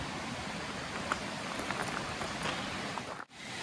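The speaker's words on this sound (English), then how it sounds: "You can hear that creek." Big Poe Creek flows nearby at a state park campground in Woodward, Pennsylvania, a steady, broad rushing hiss of moving water without speech, briefly cut off near the end.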